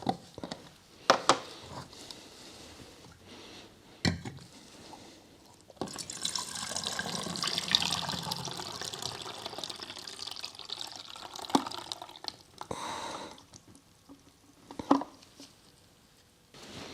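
Tap water running and splashing while rinsing a black and white film developing tank after fixing, a steady close rush of water with handling clatter and brief gaps, no talk.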